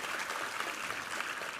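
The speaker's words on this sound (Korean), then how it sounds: "우리 하나님께 감사와 영광의 박수 올려드리겠습니다" Congregation applauding during a Korean church Sunday worship service, a steady dense clapping wash held evenly throughout, moderately distant with no voices over it.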